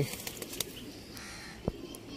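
Pigeons flap their wings in short, soft bursts against a faint, noisy background, with a couple of sharper wingbeats standing out and no talk.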